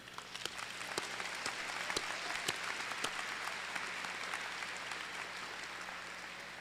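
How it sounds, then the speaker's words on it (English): A college commencement audience applauds steadily, heard from a distance as a broad, soft wash of clapping with a few sharper individual claps standing out. "Let us applaud their dedicated efforts."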